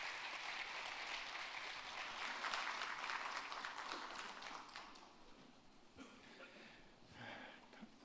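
A conference audience at an international finance event in Jeonbuk applauds to welcome a financial group chairman. The clapping is dense, steady and sustained for about five seconds, then thins into scattered claps and room noise.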